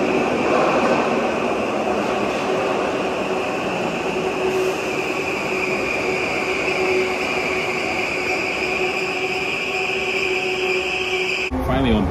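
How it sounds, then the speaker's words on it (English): A Liverpool-area commuter train near Birkenhead rolls into a station platform with a steady rumbling drone and sustained tonal whine, fairly close and continuous, ending in an abrupt louder burst. "the train pulled up"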